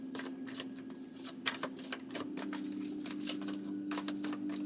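Tarot cards are shuffled by hand in a rapid run of crisp riffling flicks, close and steady over a low electrical hum, with no talk.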